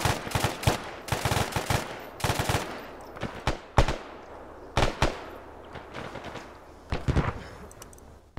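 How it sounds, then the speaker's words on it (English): Gunfire in the military video game Operation Homeland, repeated sharp rifle shots and short bursts cracking in irregular rhythm, some close and loud, others fainter. "Taking fire from the right, low."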